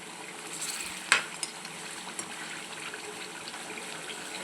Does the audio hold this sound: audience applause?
no